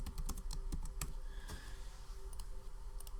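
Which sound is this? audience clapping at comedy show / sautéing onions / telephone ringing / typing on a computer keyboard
typing on a computer keyboard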